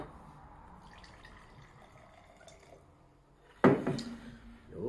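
Richard's Wild Irish Rose red wine poured from the bottle into a glass, a soft trickle first, then a sudden louder splashing gush near the end, close and clear with no talk.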